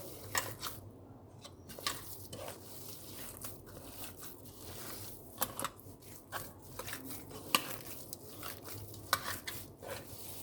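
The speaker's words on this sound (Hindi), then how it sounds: "और फिर इसको मिक्स करते हैं" Kofta mixture being stirred and mixed by hand in a bowl, giving a steady soft crunching and squelching texture with a few sharper clicks, close up and fairly quiet with no talking.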